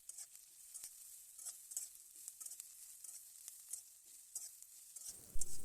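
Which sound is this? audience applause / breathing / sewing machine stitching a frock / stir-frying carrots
stir-frying carrots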